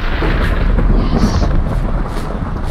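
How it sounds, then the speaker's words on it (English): Thunder from a lightning storm in Minecraft rolls as a loud, steady broadband rumble for a few seconds, with no speech over it. "I'm wondering if actually it's lightning storm."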